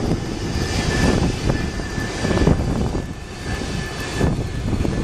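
An airliner on landing approach, dropping out of low clouds during a flash flood warning, drones with a steady engine roar at moderate distance. The sound swells and fades gently, with rain-like hiss behind it and no voices.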